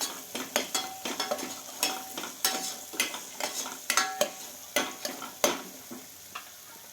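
Turmeric stirred into frying mutton masala, with repeated sharp scrapes and clinks of a spoon against the pan over a soft sizzle, close and rhythmic, no talking.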